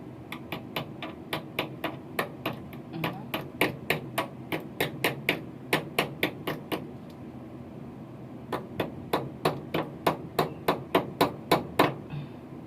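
Sharp hammer blows pounding in quick, steady runs, with a brief pause midway before the rapid strikes resume; close and loud.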